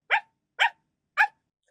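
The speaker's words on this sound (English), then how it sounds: "do you hear even more barking?" Three sharp dog barks spaced about half a second apart, close and loud against silence, with a hint of a fourth at the end.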